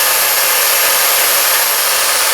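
A machine driving an oversized ground screw into the ground for a home solar array, a loud, steady, close mechanical grinding drone that strains continuously with no pauses.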